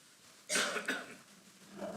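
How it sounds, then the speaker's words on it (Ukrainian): A burst of coughing from several people in a church congregation during a sermon, a loud cluster of coughs followed by scattered quieter ones in a hushed room. "Почали кашляти люди."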